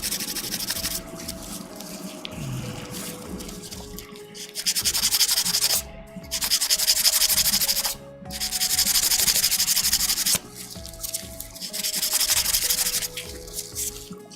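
Sanding a plastic Gunpla model part by hand produces steady, close scratchy rubbing in repeated long strokes with short pauses between passes, with no voices.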